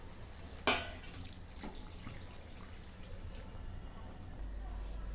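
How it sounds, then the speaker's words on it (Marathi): Heated water is poured into a brinjal curry (rassa vangi) in the pan: a single sharp clink at the start, then a steady, faint watery rush and bubbling that carries on evenly. "आता याच्यामध्ये गरम केलेलं पाणी"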